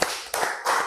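Three quick, evenly spaced claps by hands clapping in rhythm during a classroom concentration exercise, fairly close and crisp, with no talk over them.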